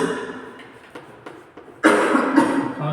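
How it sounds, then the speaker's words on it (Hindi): Coughing from a person during a spoken lesson, a few short bursts followed by a louder, rougher stretch near the end, fairly close and moderately loud. "खांसी ज्यादा आ रही बेटा, दवा ले लो"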